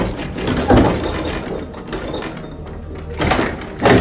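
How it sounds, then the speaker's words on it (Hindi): A door shoved open with full force produces a few heavy mechanical thumps and rattles, with one knock near the start and two more toward the end, close by and moderately loud over a low room rumble. "मैंने पूरी ताकत से धक्का मारकर दरवाजे को खोला"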